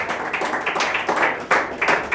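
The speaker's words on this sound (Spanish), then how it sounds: "Dale un aplauso a Jesús" Church congregation clapping in a service, fairly close and uneven, with irregular bursts of claps swelling and fading over a couple of seconds.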